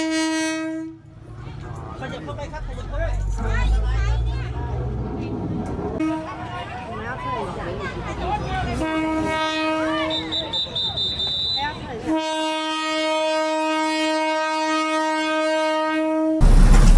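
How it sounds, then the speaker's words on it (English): Train passing straight through a marketplace in Thailand, with a long, loud, close horn blast and the rumble and clatter of rail cars, and voices talking underneath. "There's a train in Thailand that goes straight through a marketplace."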